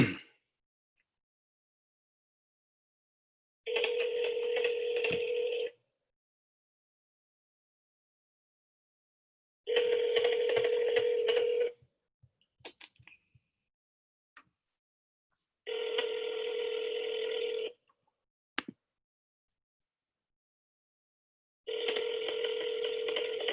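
A phone line placing a call to a sales lead, four evenly spaced ringback bursts of about two seconds each with silent gaps, a few faint clicks between them, clear and close with no talk.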